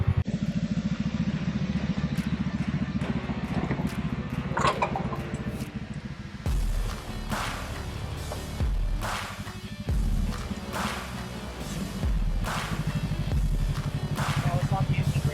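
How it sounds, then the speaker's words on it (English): A Kawasaki Teryx KRX 1000 side-by-side engine revs hard while racing off-road, a loud continuous roar with surging throttle and clattering impacts, heard close throughout. "Kawasaki engine racing, dude, the whole time."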